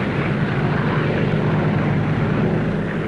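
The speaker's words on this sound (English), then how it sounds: "Round the clock, plane after plane." Propeller airplanes of the Berlin airlift droning steadily overhead, a loud continuous engine roar with no break and no voices.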